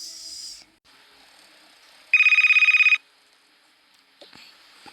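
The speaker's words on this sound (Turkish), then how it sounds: "ya telefon çalıyor" A telephone rings once with a rapid trilling electronic bell for about a second, set between quiet stretches with faint rustling and a short chirp at the start.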